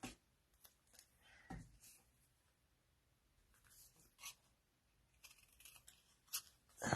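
Scissors snip through paper during a stamping and papercraft session, giving several short, crisp cuts scattered between quiet stretches, close and fairly faint with no talking.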